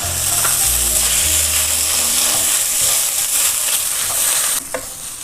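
Roasted ground coconut masala sizzles and fries steadily in a pan for chicken curry, with a spoon scraping and stirring through it in a continuous close, fairly loud hiss that eases near the end.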